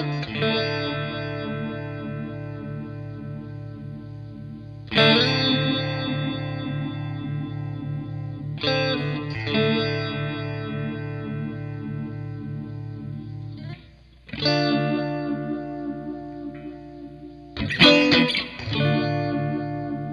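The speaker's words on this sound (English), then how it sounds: "The phase effect can give you a full-on psychedelic sound, or dialed back, can thicken the guitar tone." Electric guitar run through an AZOR phaser pedal, sustained chords with a sweeping, swirling phase tone, struck anew every few seconds and ringing out loud and close with no talk.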